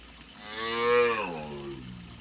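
A single drawn-out moo from a calf, rising then falling in pitch, fairly close and clear with no talking.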